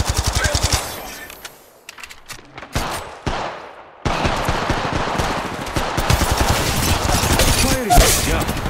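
Rapid automatic gunfire in Apex Legends, loud bursts of close shots rattling in quick succession, a short lull of scattered single shots, then sustained heavy firing resuming and building again.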